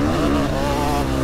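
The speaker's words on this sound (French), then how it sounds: "Ça, moto d'enduro, 125 de cross." A 125cc enduro motocross motorcycle rides on a dirt track, its engine droning steadily and loudly up close in a continuous buzzing tone with no talk.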